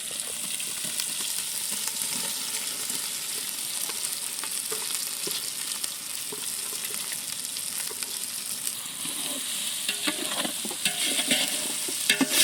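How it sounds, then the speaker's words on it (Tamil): Mushrooms sautéing in biryani masala, a steady close sizzle of frying with stirring and scraping throughout, getting a little busier toward the end. "காளான்ல இருக்க தண்ணி போற வரைக்கும் நல்லா வதக்கிடுவோம்."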